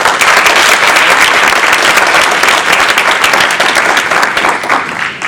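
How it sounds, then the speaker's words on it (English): A big round of audience applause at a Toastmasters international speech contest honoring district officers and governors, loud, dense clapping from a large crowd sustained throughout. "The district officers, division governors, area governors, a big round of applause"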